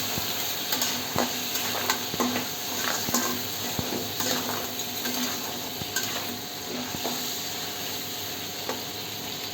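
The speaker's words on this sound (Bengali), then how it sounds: "তারপর নেড়ে নিতে হবে।" Crab curry with onion and chili being stirred in a sizzling pan, a steady frying hiss with repeated scraping and clinking of the spoon against the metal, close and fairly loud.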